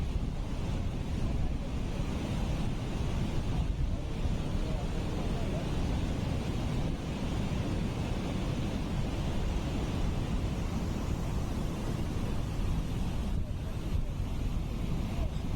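Kutralam waterfall in Tenkasi pouring heavily, a dense, continuous rushing roar of falling water, loud and unbroken throughout.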